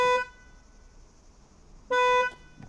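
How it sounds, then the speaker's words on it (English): Horn of a 2022 Mini Cooper 3-door 1.5L, sounded in two short, loud, steady toots with a long quiet gap between them, heard alone and close. "Now it's time for the horn test."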